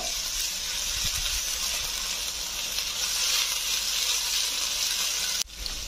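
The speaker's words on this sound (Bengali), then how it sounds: "এবার আমি আদা রসুন বাটা দিয়ে দেব। এটা আমি ভালো করে কষিয়ে নেব।" Chopped onion and ginger-garlic paste sauté in a hot pan, giving a steady, close hissing sizzle that is cut short by a sharp knock near the end; nobody speaks.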